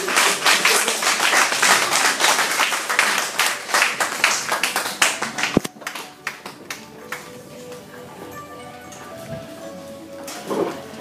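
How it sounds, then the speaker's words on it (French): Church congregation at a worship service clapping loudly for Jesus, dense rapid applause that gradually thins into scattered claps and quieter crowd sounds. "Et acclame très fort Jésus."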